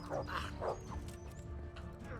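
A dog in the medieval video game Kingdom Come: Deliverance gives two quick barks close by, followed by fainter yips amid game ambience and a low voice.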